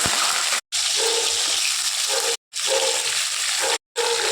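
Cut potatoes tossed into hot oil already tempered with mustard seeds and cumin set off a loud, hissing sizzle that cuts out briefly three times, close and continuous in between.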